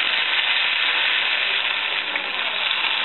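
Spices tempering in hot oil for bisibele bath with hesarubele and avalakki sizzle in a dense, steady crackle that holds close and loud throughout, with no voices.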